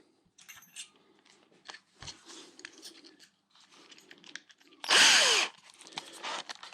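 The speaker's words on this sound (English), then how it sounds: "Let's drill them." A power drill bores holes into the steel frame of a Royal Enfield Meteor or Classic motorcycle while a rear mudguard is being fitted, with short whirring and grinding bursts and one loud, sustained burst near the end.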